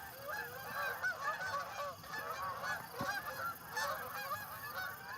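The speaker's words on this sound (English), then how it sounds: "Good old Canada geese." Canada geese honking in a flock, a continuous chorus of overlapping nasal honks at moderate distance, fairly faint and steady throughout.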